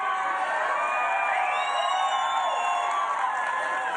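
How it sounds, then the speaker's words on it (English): A large crowd at a Donald Trump campaign rally for supporters in Las Vegas, Nevada, before a debate cheers in a sustained roar, with shrill whistles and whoops rising over the steady noise. "Look at this crowd."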